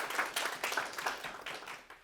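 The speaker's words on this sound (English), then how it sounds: "let's give Dirk a big round of applause" Audience applause at an investor club seminar, a steady patter of many hands clapping at moderate volume, fairly close, filling the whole moment without speech over it.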